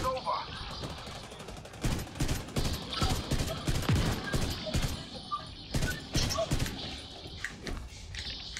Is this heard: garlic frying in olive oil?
no